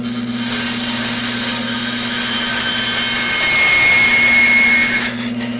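A bandsaw trims a wooden bandsaw box, its steady, loud motor hum and blade whine holding for several seconds and rising slightly as the cut deepens, with no voices.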